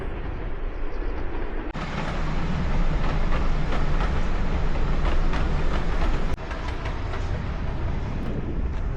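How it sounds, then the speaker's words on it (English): A loud, continuous rumble of a passing steam train with rhythmic clatter and hiss, swelling briefly then easing slightly near the end. "Steam train heading in the same direction as us"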